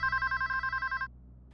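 A telephone rings at a police station in a rapid, warbling electronic trill of about a second, then stops abruptly into quiet room tone.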